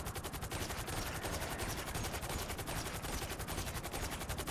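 Faint, rapid, evenly spaced gunshots from a marksman rifle crack in quick succession during GTA V gameplay, forming a continuous rattling burst with no voices.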